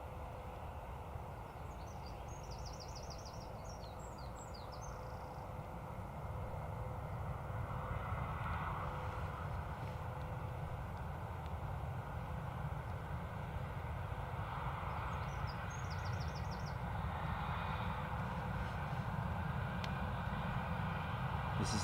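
Airbus A321 arriving from Heathrow at Dublin Airport, its engines a steady broad roar that swells gradually and holds at a distance, with faint bird chirps above it.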